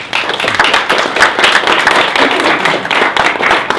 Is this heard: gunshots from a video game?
no